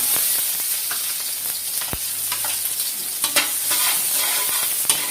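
Garlic sautéing in hot oil for a Filipino-style paella Valenciana gives a steady, close sizzle with scattered stirring scrapes and a few sharper clicks.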